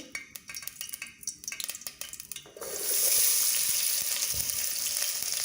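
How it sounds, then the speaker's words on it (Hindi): Onions drop into hot oil in a pot and fry with a loud, steady sizzle after a few seconds of clattering stirring and utensil knocks. "पतीले में ऑयल को गर्म कर लेना है। अब इसमें हम प्याज ऐड कर लेंगे।"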